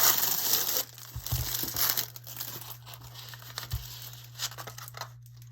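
Packaging paper crinkling and tearing close by as an item bought at a French flea market is unwrapped, loud rustling bursts at the start and then scattered softer crackles.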